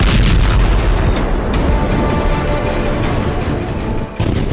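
Blast in Tartus, Syria, heard as a sustained heavy roar of explosion noise, loud and close, rumbling throughout with a brief dip and renewed burst just before the end.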